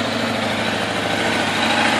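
A 1986 Kawasaki Ninja 1000R superbike idling close by, its engine giving a steady, even rumble with a fine rhythmic pulse and no revving.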